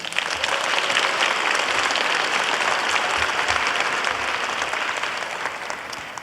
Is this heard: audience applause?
yes